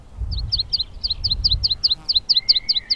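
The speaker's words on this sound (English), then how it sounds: "the meadow pipit, singing away on top of a songpost" A meadow pipit sings a rapid series of thin, high chirping notes in a steady run from a songpost, close and clear over low rumbling wind, in Wiltshire.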